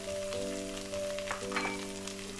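Carrot and vegetables for cap jae stir-fry in a pan with a soft, steady sizzle and light scraping, quiet and close, with a faint tonal hum running underneath.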